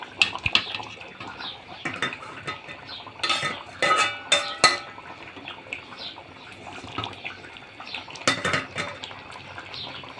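Fried onion (beresta) goes into a pot of simmering beef curry, with repeated clattering of a metal spoon against the pot and bursts of stirring and scraping spread across the clip.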